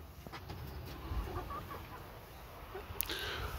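Hens on a small backyard farm, with meat birds among the flock, cluck softly and intermittently against a steady outdoor background, fairly close but low in level.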